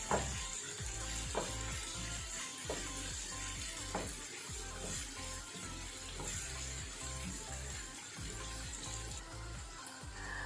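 Onions frying in a pan with salt, a steady broadband sizzle throughout, punctuated by repeated soft low knocks from stirring, close and moderately loud with no speech.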